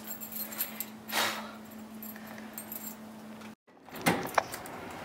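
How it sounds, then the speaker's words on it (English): Keys jangling and clinking against a room door lock in a cafe, a burst of metallic rattling near the start and sharper clicks toward the end, with a steady low hum underneath and a brief silent gap. "Be sure to lock the org room door before you leave."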